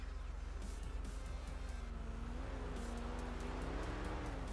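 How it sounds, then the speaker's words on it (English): A loud Ford Mustang passes by on the road outside a patrol vehicle, its engine roar rising and holding steady throughout, close and dominant with no talk over it. "Was that super loud Mustang?"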